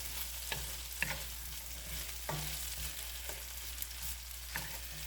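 Ginger roasts in a pan with a soft, steady sizzle while it is stirred, and a few scraping clicks of the utensil punctuate the low frying hiss.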